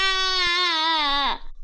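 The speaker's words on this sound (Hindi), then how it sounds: "मोलू को जोर से चोट लगती है और वो रोने लगता है" A cartoon child cries after falling from a tree, a single sustained high wail that holds steady and then breaks off abruptly, close and alone.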